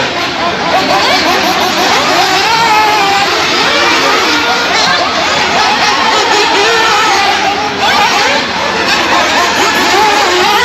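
Race car engines roar during a race at the Pumpkin Cup, a loud continuous wash of engine noise mixed with crowd hubbub and a commentator's voice throughout.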